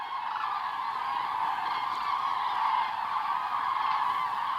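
Common cranes call in a loud, continuous chorus of overlapping honking trumpets from a flock along the Baltic Sea coast, with no other sounds.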